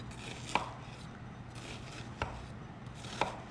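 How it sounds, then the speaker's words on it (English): A knife chops through an onion on a cutting board in a quiet kitchen, three distinct crisp thuds spaced about a second apart over a faint background hum. "And then we want to cut on top of the onion."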